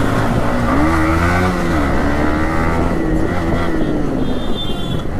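A KTM motorcycle rides on a road, its engine droning loudly and continuously up close while the pitch rises and falls with the throttle.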